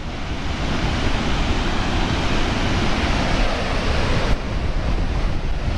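Steady gusting wind roars at a misty overlook, a dense broadband rush buffeting the microphone throughout, loud and close with no voices.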